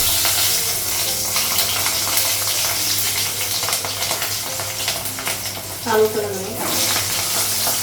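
Chillies and potato sizzle and fry in hot oil while being stirred, a steady crackling hiss throughout with a voice speaking over it.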